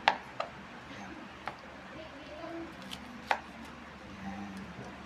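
Knife slicing through a crispy fried tonkatsu pork cutlet in a home kitchen, a few sharp crunchy cuts spaced irregularly, close and fairly quiet.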